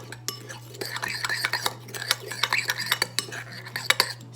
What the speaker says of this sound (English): Just kind of mix that together.